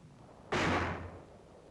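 A 4.2-inch mortar fires a single sharp, loud report during a WWII offensive from Baesweiler, Germany, its blast decaying over about half a second against faint background hiss.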